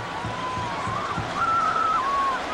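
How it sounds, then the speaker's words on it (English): A football linesman's whistle sounds during the 2003 Florida vs Miami college game, a thin, wavering tone of a couple of seconds riding over a steady roar of stadium crowd noise. "And the linesman blows his whistle."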